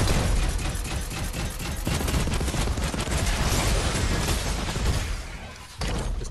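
A mech's minigun in a video game fires a dense, continuous stream of rapid shots, loud and sustained with a short break near the end.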